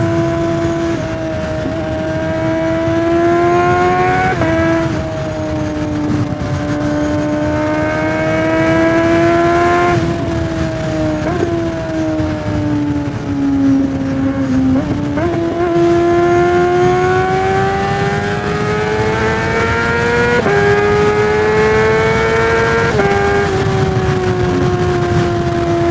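A motorcycle fitted with a Moriwaki slip-on exhaust rides at night, its engine droning loud and close with smooth rising and falling revs as it shifts through gears, no voices.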